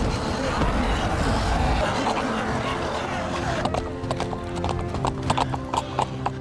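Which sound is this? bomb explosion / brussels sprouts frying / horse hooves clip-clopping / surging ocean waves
horse hooves clip-clopping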